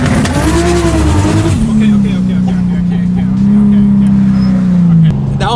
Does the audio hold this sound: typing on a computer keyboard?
no